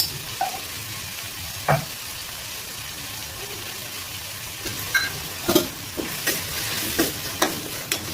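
Egg gravy masala with turmeric sautéing in hot oil, a continuous sizzle broken by scraping stirs that grow busier and more frequent toward the end, close and fairly loud.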